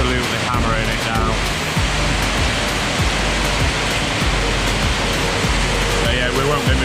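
Heavy tropical rain pouring down in Pattaya, Thailand, a dense constant hiss and roar of water filling the scene, loud and unbroken, with faint voices beneath.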